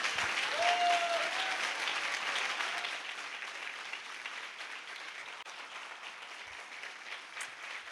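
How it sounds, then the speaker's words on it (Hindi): A church congregation applauds at a worship service, a dense sustained clapping that starts loud and slowly tapers over several seconds, with a brief voice rising over it early on. "Oh, come on, give a good clap for our Lord."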